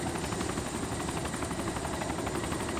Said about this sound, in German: Wir haben 3 Helis, gell?